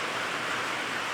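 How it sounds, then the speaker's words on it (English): Steady rain falls outdoors during work on a 1975 VW Beetle, a dense, even hiss with no pauses and no voices. "Sorry about the audio because, you know, I like to film in the rain."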